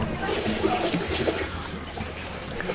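Water gushes steadily into a cooking pot for pork noodle soup, a continuous rushing pour with a few splashy bumps, close and moderately loud, with a voice speaking faintly underneath.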